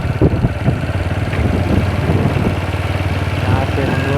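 Motorcycle engine idling at low revs as the bike is parked at the ancient Angulimal stupa site in Shravasti, a steady close rumble with someone talking over it.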